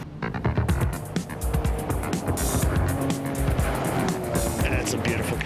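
A late classic rally car runs a Targa Tasmania tarmac stage, its engine loud and close with revving, gear changes and tire noise, while a voice talks over it.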